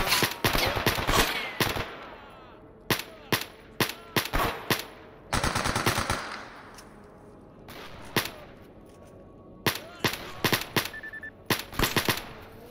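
Bursts of automatic gunfire from a gun in STALKER Anomaly crack out in rapid rhythmic volleys separated by short pauses, loud and close, with no speech over them.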